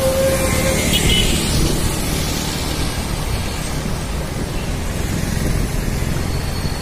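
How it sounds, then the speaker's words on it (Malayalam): Heavy rain pours down steadily outdoors near Malayattoor hill, a loud, continuous hiss with no pauses throughout. "നല്ല മഴയുണ്ട്."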